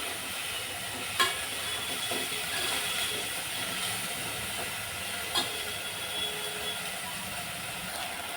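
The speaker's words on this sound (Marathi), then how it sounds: "मीडियम गॅसवर छान फ्राय करून घेऊया मटकी." Moth beans (matki) frying in oil in a pan on medium heat, giving a steady, broad hiss of sizzling with a couple of sharp pops and faint scraping, heard alone and at moderate level throughout.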